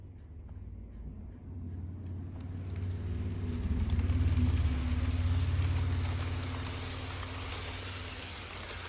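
A DC Athearn Genesis EMD DDA40X model locomotive runs on a home layout pulling cars, making a steady low motor hum and wheel rumble that swells midway and then eases, with no talking.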